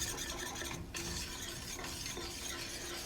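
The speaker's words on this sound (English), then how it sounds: "I just have to whisk it until all the brown sugar has dissolved" A butter, brown sugar, salt and pepper glaze being whisked in a pot, a soft, quick, continuous scraping swish with a faint simmer underneath.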